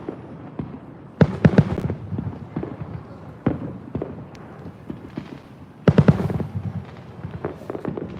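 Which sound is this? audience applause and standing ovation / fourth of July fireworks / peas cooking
fourth of July fireworks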